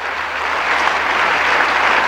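A church congregation claps in loud, sustained applause, a dense and even wash of many hands with no pauses.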